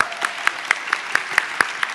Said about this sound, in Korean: 큰 박수